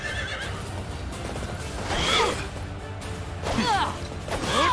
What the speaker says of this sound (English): Go Death Knight! And your evil fucking horse!